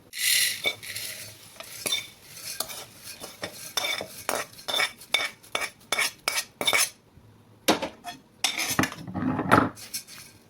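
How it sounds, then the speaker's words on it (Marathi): Tongs clink and scrape against metal as roasted puffed rice is transferred into a pot, giving a rapid series of close, bright metallic clatters with short pauses. "आता आपल्याला आता सांडशे धरून याला भगुन्यात काढून घ्यायचे"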